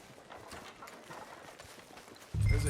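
Horse hooves clip-clopping at a steady walking pace in Red Dead Redemption 2, faint and even under a low background bed, with a louder rumbling thump at the very end.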